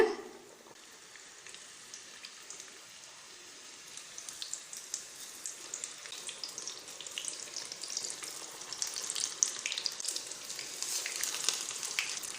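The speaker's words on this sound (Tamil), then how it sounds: "பொறுமையாக மாவில் முக்கி எடுத்து எண்ணெயில் போடுங்க." Batter-dipped onion slices frying in hot oil for bajji, a steady crackling sizzle that builds and grows denser over the clip, heard alone without talk.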